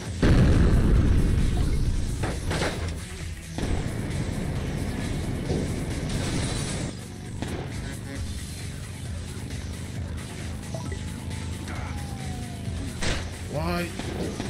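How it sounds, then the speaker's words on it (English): A bomb explodes in the motorbike combat game Road Redemption: a loud, close blast opens the clip, then rumbling noise continues with further thuds and bursts. A voice talks over the engine and effect noise throughout. "Buddy, I have a bomb."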